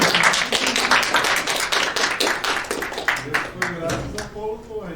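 An audience claps after a talk at a colloquium, sharp dense clapping that thins out toward the end as a voice begins speaking over the last moments.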